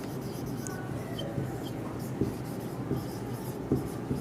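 Chalk or marker scratches across a board as notes on Gauss's theorem are written in a classroom, with a steady rubbing texture and a few sharper taps under faint room noise.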